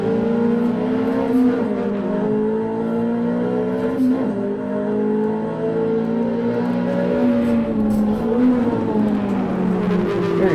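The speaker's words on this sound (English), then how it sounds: "But what a punchy engine this is." A Ferrari 360 engine drones loudly from inside the car on the Nürburgring Nordschleife, pitch rising and falling steadily as it pulls through gears and corners over ten seconds, with no voices.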